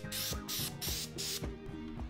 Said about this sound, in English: just fill them with a little bit of super glue, then spray them down with some activator